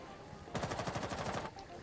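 A shotgun blasts repeatedly in a video game, a rapid run of sharp, loud reports lasting about a second, standing alone above a low background hum.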